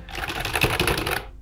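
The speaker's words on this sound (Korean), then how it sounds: "열심히 지금 불타오르는 타이핑 소리 들리시죠?" Rapid clattering keystrokes come from a computer keyboard, a dense burst of fast typing lasting just over a second at close range.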